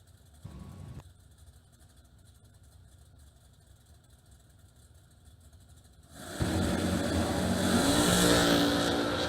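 A first-generation 1967 Camaro drag car at a drag strip idles with a low rumble, then launches into a loud, sustained full-throttle roar that builds and holds to the end.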